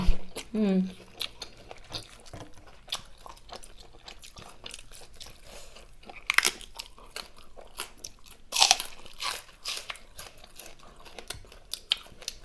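Close-up crunching and chewing of a squid salad with springy shrimp, fish-sauce dressing, stink beans and rice noodles, with wet bites, steady mastication and a few sharper crunches, while voices talk at times.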